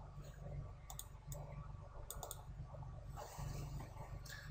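Mouse clicks from right-clicking and deleting bodies in SolidWorks, several sharp quiet clicks spread unevenly through a steady low background hum.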